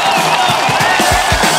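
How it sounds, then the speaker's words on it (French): An audience at a vaccination programme anniversary event applauds, a short dense burst of clapping mixed with crowd noise and a few cheers, fairly loud and close. "On vous applaudit pour cet engagement de longue date"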